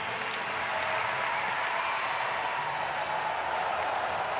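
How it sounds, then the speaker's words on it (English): A stadium crowd roars and applauds steadily after a javelin throw in a women's heptathlon at the 2018 Berlin championships, a dense sustained wash of cheering and clapping with no break. "Roar from the crowd."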